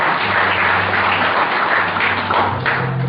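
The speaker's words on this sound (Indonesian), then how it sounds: "Oke, tepuk tangan yang meriah Bapak Ibu sekalian" A crowd at a training seminar applauds loudly and steadily, many hands clapping together in a continuous dense roar with no voices over it.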